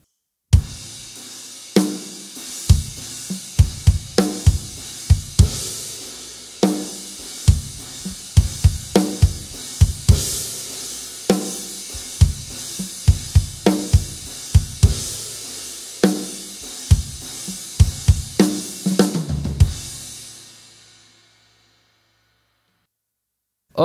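A drum kit plays the first chorus of a song with heavy kick and snare accents under washing cymbals in a steady, emphatic groove, loud and near, then stopping and ringing out to silence, no speech.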